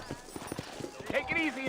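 Horse hooves clip-clop in the Western video game Red Dead Redemption, a quick uneven run of close hoofbeats while someone talks over them.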